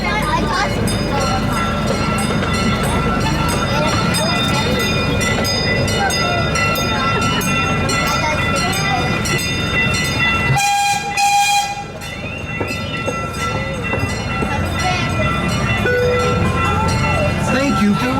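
The C.P. Huntington amusement train at Kemah Boardwalk rumbles and clatters continuously, with a voice talking over it, a brief drop in noise partway through, then the running sound resumes.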